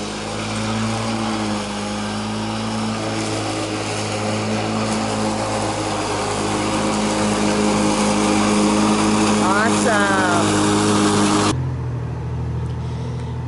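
A Lawn Boy commercial mower drones loudly and steadily as it cuts long grass, its engine note rising slightly mid-run before cutting off abruptly near the end, with a voice speaking over it.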